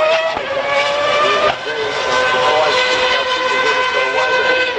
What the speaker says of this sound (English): have a look at the difference between the bike and the car as they come around that corner there into view, and Casey is actually making that rear end